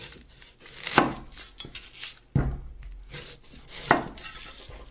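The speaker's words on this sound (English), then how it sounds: "I'll use my 9-inch Wusthof knife to cut some vegetables." A 9-inch Wusthof kitchen knife slices through vegetables, giving irregular knocks and crisp chops against a cutting board with scraping in between, close and fairly quiet.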